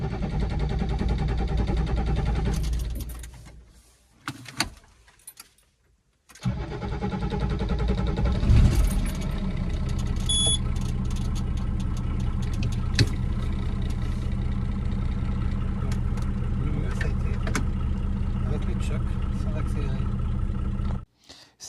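A car engine restarts after a brief cutout, with a gap of near silence, then settles into a steady, rough idle that carries on at close range. The engine has a misfire and is losing power.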